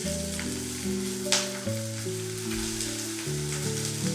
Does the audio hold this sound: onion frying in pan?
yes